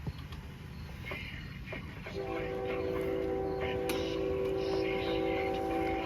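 Passing train at a Halloween yard haunt, a steady loud rumble that swells after two seconds and carries a sustained multi-tone horn or whistle through the rest.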